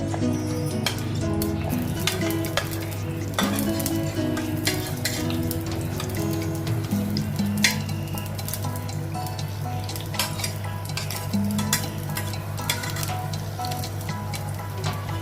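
Shallots, curry leaves, green chillies and onions sautéed in a pan for prawn theeyal, a continuous loud sizzle with frequent clinks and scrapes of a spoon stirring against the pan.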